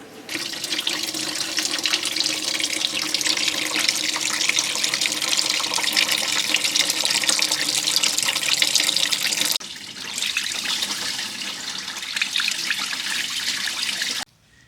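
Engine coolant from a 2007 Toyota Highlander Hybrid drains into a pan before the water pump is removed. A steady, loud splashing stream runs for about fourteen seconds, softens briefly partway through, then stops abruptly.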